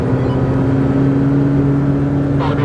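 A McLaren 720S engine pulls hard in second gear around 50 km/h and 3,500 RPM on the Nürburgring, a steady loud drone heard from inside the cabin.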